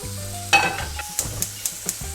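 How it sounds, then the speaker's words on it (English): Butter melting on low heat in a small non-stick pan, a soft steady sizzle close by, broken by a few sharp clinks and taps of a utensil against the pan. "Low heat. Just gonna melt some butter."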